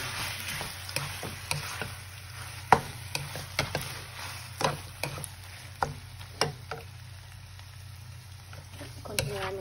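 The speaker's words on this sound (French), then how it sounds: "Continuez à mélanger." A Thai basil chicken stir-fry is stirred in a pan after the heat is off: a soft background hiss broken by repeated sharp spatula clicks and scrapes, with a voice talking over it.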